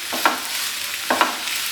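Thinly sliced onions sauté in a pan under a soft steady hiss, broken by two scraping strokes of a spoon stirring them, no speech.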